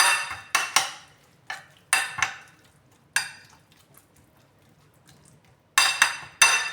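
Spoon clinking and scraping in a small bowl or pot while chutney is stirred together with salt, vinegar and coconut oil, a series of sharp close taps and clatters with quiet pauses between.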